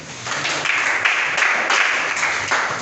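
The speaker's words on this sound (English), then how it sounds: "Clap for him." Applause from students in a computing lesson classroom, a steady broadband patter of many hands clapping for about three seconds, fairly loud and continuous without any talk.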